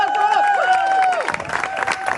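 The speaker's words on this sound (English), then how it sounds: "Give this young lady a round of applause" At the Louisiana Renaissance Festival 2014, a sustained whistling tone gives way to a short burst of crowd clapping and cheering for a young volunteer, loud and close for about a second.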